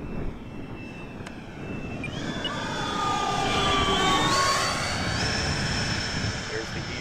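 An E-flite SU-30 RC jet makes a slow flyby, its ducted-fan whine rising and sweeping in pitch as it passes close overhead, loud and steady over several seconds.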